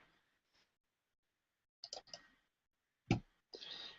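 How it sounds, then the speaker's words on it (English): Several crisp computer mouse clicks, including a quick double click, sound sharply and close up against near silence, with short gaps between them. "Double click to open it."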